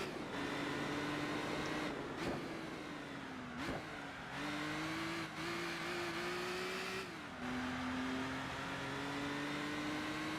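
In Gran Turismo 4, a hard-to-handle car's engine drones steadily at high revs, its pitch dipping and climbing through gear changes and throttle lifts, with brief tire scrubs along the way, continuous and without speech.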